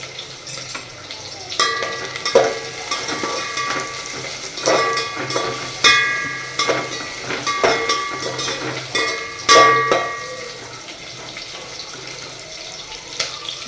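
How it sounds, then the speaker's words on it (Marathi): Onion sautéing in oil in a pan, heard as a close sizzle with repeated clinks and scrapes of a spoon against the vessel at irregular intervals, and no talking. "आता आपण तेलात घालणार आहोत कांदा."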